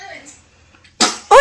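A single sharp sneeze bursts out near the microphone at a quiet indoor family gathering, followed at once by a voice speaking.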